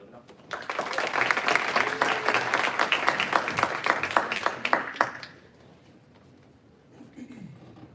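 An indoor university seminar audience applauds to welcome the speaker, with dense clapping for about five seconds that then fades, followed by a voice beginning to speak.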